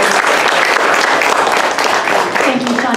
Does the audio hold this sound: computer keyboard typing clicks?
no